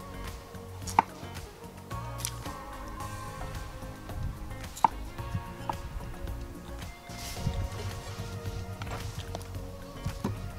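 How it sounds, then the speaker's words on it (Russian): A knife chops onion on a cutting board in irregular taps and thuds, close and fairly quiet, with a few sharper knocks among softer cuts. "Режем лук."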